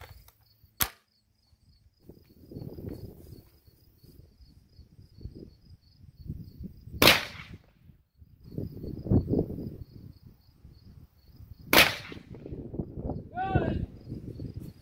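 Rifle firing .223 steel-case full metal jacket rounds outdoors: three sharp, loud, isolated shots spaced several seconds apart, with people talking quietly between them and insects chirping.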